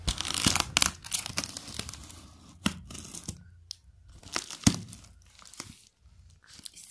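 Cardboard packaging being torn open by hand, with repeated sharp ripping bursts and crinkling, loud and close, followed by quieter rustles and brief gaps.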